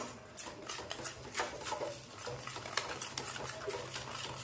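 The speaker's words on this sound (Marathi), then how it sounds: "एकसारखं हलवत राहायचं आपल्याला या पद्धतीने" Gram flour batter being stirred steadily in oil in a pan for thapi vadi, giving soft, continuous scraping and patting sounds with faint sizzling in the background and no talk.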